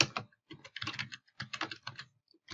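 Fingers type on a computer keyboard in quick bursts of close, crisp key clicks separated by short pauses, with no voices.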